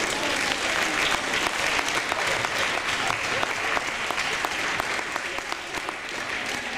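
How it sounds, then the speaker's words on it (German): Audience applause for the Crazy Angels, a dance group of young women, at an event in St. Ruprecht, Austria: dense, steady clapping from a crowd that holds level for several seconds with no voices. "Also ich glaube, allgemein einmal für die Crazy Angels einen tollen Applaus."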